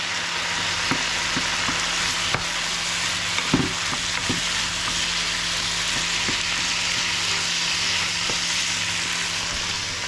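Bacon bits and onions sizzle and fry steadily in a pan, a dense continuous crackle with a few scattered clicks and light utensil knocks, close and fairly loud, no voices.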